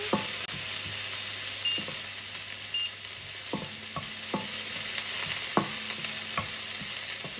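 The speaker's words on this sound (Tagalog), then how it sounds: "Habang ginigisa natin yung sibuyas sa kabawang" Onion and garlic sautéing in a pan, a constant close sizzle with scattered utensil clicks and scrapes as the pieces are stirred, no voices.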